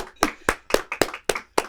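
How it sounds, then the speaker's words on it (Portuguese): A small team claps for a guest researcher at an interview, about seven distinct close claps in a steady rhythm, sparse and brief rather than a full ovation. "pedir para minha equipe aplaudir esse senhor"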